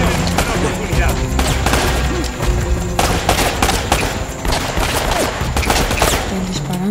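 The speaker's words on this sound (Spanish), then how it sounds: "Están disparando, bro." Rapid video game gunfire, dense bursts of automatic shots and single cracks firing continuously and loudly throughout, with a few sharp impacts mixed in.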